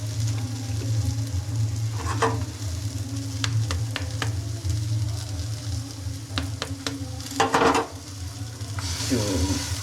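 Eggs sizzle in a hot pan for kothu parotta while a utensil stirs and scrapes, with a steady frying hiss and scattered sharp metallic clinks and taps.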